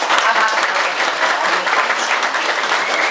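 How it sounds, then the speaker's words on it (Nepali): An audience at a Bibeksheel Nepali Dal and Sajha Party merger ceremony claps continuously in loud, dense applause lasting the whole stretch. "उहाँलाई तपाईँहरू सबैले ताली बजाएर एकचोटि"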